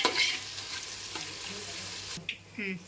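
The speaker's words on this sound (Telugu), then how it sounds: "అల్లం వెల్లుల్లి, ఉల్లిపాయలు వేగిన తర్వాత అల్లం వెల్లుల్లి పేస్ట్ కూడా వేసుకొని బాగా వేపేసుకుందాం" Onions frying in a pan with ginger garlic paste for coconut rice sizzle briefly up close, with a stirring scrape, a short pause and then a renewed burst of frying.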